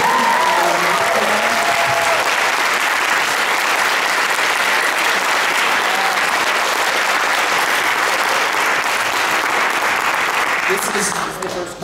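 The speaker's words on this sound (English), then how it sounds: "Can we please have one more round of applause for all the musicians?" Loud, dense audience applause for orchestral musicians after a concert of Rimsky-Korsakov's Capriccio Espagnol, a continuous roar of clapping lasting many seconds that fades out near the end.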